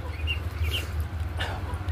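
Soft, scattered clucks from native chickens at a poultry market over a steady low hum, fairly close and not very loud.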